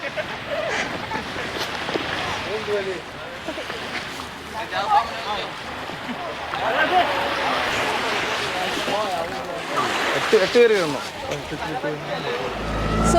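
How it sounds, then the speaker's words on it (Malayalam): A glass-bottom boat ride on the sea off a beach in Lakshadweep, with steady wind and rushing water noise throughout and voices talking over it. "നമ്മൾ നമ്മുടെ glass bottom boat ride start ചെയ്തിട്ടുണ്ട്"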